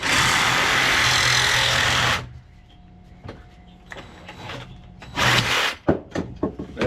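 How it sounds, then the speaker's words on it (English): A Sawzall reciprocating saw fitted with a fine metal blade rasps loudly through a metal rod holder section for about two seconds, then stops, followed by quieter clanks and handling noises. "I'm just gonna use a Sawzall with a fine metal blade"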